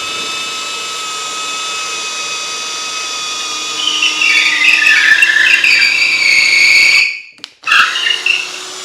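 A Craftsman V20 cordless drill with a 4 amp hour battery whines at high speed, rising in pitch as it bores into wood, then stops briefly and restarts for a short burst.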